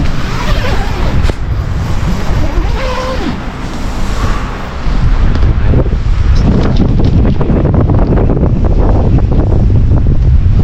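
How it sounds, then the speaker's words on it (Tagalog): Strong wind at a campsite roars and buffets the microphone nonstop, a loud rushing gust that grows even harsher midway through. "Grabe yung lakas ng hangin."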